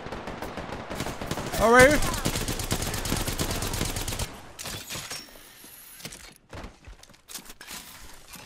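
A steady, rapid burst of automatic gunfire rattles in an Apex Legends match, then gives way to scattered single shots and thuds. Brief speech is heard over it.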